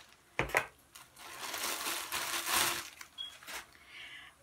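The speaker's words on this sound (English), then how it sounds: "Now, I need the scissors to cut open the bag" Scissors slice open a plastic package bag holding clothing, giving close crinkly rustling and a couple of sharp snips near the start, followed by steady crackling plastic, with no talking.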